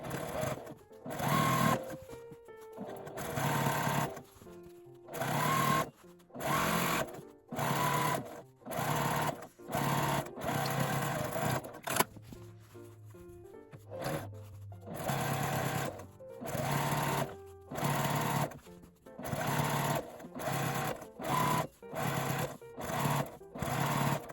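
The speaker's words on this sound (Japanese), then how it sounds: "端を縫います。" A sewing machine runs in repeated short bursts of loud, rapid stitching along the edges of grid-marked fabric, with brief pauses between runs, close by and with no talking.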